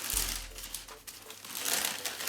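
Tissue paper crinkles and rustles inside a sneaker box in a close, continuous handling sound with a low thud at the start.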